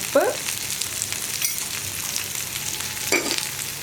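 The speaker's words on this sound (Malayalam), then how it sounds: "ഉപ്പും കൂടി ചേർത്ത് നന്നായിട്ടൊന്ന് വഴറ്റിയെടുക്കുക." Potato, okra and onion sautéing with salt in a pan give a soft, continuous sizzle, broken by two brief scraping stirs near the start and end.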